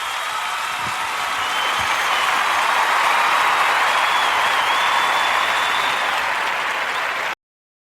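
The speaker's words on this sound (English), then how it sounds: "Wow, what a wonderful applause" Sustained applause from a studio audience at a live comedy talk show, a dense, steady wash of many hands clapping close and loud for about seven seconds before cutting off abruptly.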